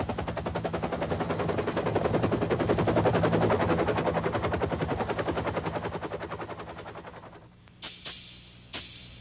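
A military helicopter's rotor thumps in a loud, rapid rhythm, swelling and then fading away, followed by a couple of sharp bangs, in a war game.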